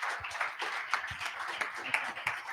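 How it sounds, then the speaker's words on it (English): Small audience gives a modest round of clapping at a UN and civil society conference closing ceremony, individual claps distinct and fairly quiet, steady for a few seconds without voices. "So please, a small round of applause to Bill Yotive."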